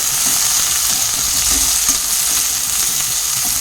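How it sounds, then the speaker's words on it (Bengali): Loud, continuous sizzling of capsicum frying in a hot pan, with occasional clatters of stirring throughout. "এটাও আমি ভালো করে ভাজা করে নেব।"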